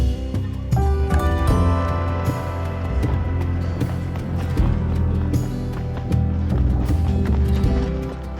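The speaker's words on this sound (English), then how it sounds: "all of a sudden there's just all these horses" Group of horses, including a foal, moving along a mountain bike trail in British Columbia, with repeated hoof clops and stirring over continuous busy background sound.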